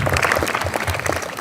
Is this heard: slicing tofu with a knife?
no